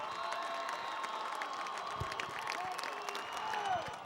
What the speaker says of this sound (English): That's the sound of the town of Medfield cheering on their Warriors.